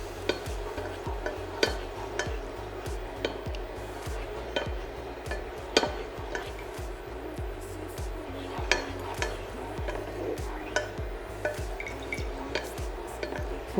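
Gelatin being stirred into an orange bavarois mixture, a spoon clinking and scraping against the bowl in a steady irregular rhythm, close and fairly loud, with a faint wet swishing underneath and no talking.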